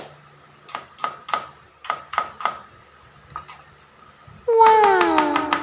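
A knife chops onion on a board for a simple farm-style dish: a run of crisp, evenly spaced chops, a short pause, one more chop, then a loud, high, wavering meow-like cry at the end.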